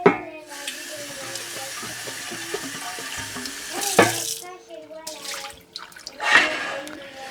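A part of a Berkey water filter is rinsed under a running kitchen tap, a steady rushing stream with splashing bursts as it is handled, while a person talks in French over it.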